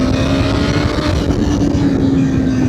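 A BMW S1000R street-fighter motorcycle accelerating hard in second gear, its engine a loud, steady roar heard up close with heavy wind rush over the microphone and no talking.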